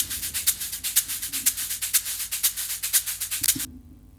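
Duplicated shaker loops, one copy pitched down, panned hard left and right, play a steady rapid shuffling rhythm of bright hissy strokes with regular accents, alone and close, before cutting off abruptly.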